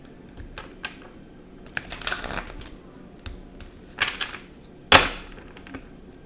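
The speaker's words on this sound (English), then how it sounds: "I'm going to shuffle." Tarot cards being shuffled by hand, a run of soft papery riffles and light taps, close and moderately quiet, with a sharper flutter near the end and no talking.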